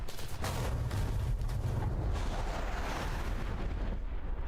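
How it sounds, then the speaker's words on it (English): Dense, continuous battle din of gunfire and explosions in the War Thunder combat game, loud and sustained throughout without a break, with heavy low rumble beneath rapid bursts. "A lot of gunfire noises there."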